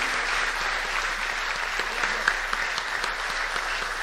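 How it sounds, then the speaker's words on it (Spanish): Sustained applause from a concert audience saluting a composer and poet at his centenary tribute, a thick continuous patter of clapping with a few sharper claps poking through. "quiero pedirles a ustedes el más grande de los aplausos al maestro, al poeta del amor"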